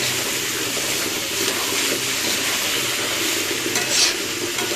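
Potatoes and rice fry together in a pan with a steady loud sizzle, with stirring scrapes audible throughout.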